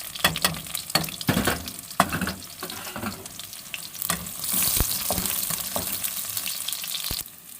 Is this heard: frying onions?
yes